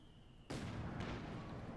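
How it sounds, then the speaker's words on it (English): A mortar shell hits in Company of Heroes 2 with a sudden loud thud and a rumbling tail, followed a moment later by a second, softer impact, with no speech. "Decent hit there from the mortar."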